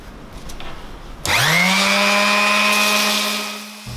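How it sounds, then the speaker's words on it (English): A power sander with 40 grit sandpaper takes surface rust off the steel bands of a whiskey barrel, spinning up abruptly into a loud, steady whine and then cutting off near the end. "I'm using a 40 grit sandpaper to take off the surface rust"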